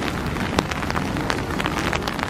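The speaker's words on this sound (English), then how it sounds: "So it's dark and dreary and rainy" Steady rain falls on a dark, dreary day in Nanxiang ancient town outside Shanghai, a dense even hiss with scattered soft drip spatters and no voices.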